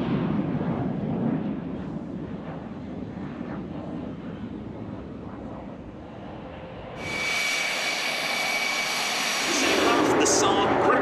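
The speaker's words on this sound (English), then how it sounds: "This is the Saab Gripen, which translates as Griffin in English, single engine fly-by-wire manufactured by the Swedish aerospace company Saab." Saab Gripen single-engine fly-by-wire jet fighter flying at the Leuchars airshow, with a broad roaring jet rumble that swells into a harsh, loud, high-pitched engine roar partway through, along with wind noise on the microphone.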